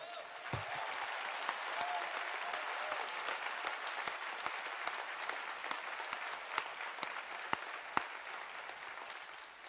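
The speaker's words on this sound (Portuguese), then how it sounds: "Aplauda o Senhor, meu irmão." A church congregation applauds steadily and fairly distantly, with sharp individual claps poking out from the dense patter throughout.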